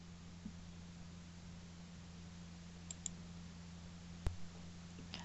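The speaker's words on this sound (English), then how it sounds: "I'm just going to click out of that" A few faint, sharp computer mouse clicks tick out against a steady electrical hum, with one crisper click standing out near the end.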